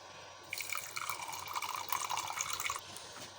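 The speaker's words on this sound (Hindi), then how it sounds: "और हाफ कप इसके अंदर हम डालेंगे दूध।" Milk is poured into a bowl of eggs and sugar, giving a soft, close trickling and splashing pour that lasts a couple of seconds.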